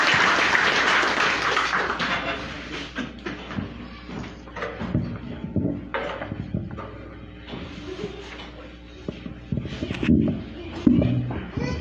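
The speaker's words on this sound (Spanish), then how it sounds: "Recibámoslo con fuertes aplausos." At a school graduation ceremony in Buena Vista, Concepción Tutuapa, San Marcos, Guatemala, loud crowd applause opens the stretch, then fades into voices talking, shuffling and scattered knocks.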